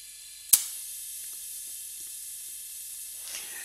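A pneumatic cylinder driven by a 5/2 directional control valve gives one sharp, loud burst of exhaust hiss, then falls back to a steady background hiss, with a fainter release near the end.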